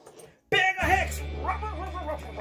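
Toy dog barks in a children's toy play scene, a few short yips and bow-wows up close under a continuous electronic toy tone, with voices talking.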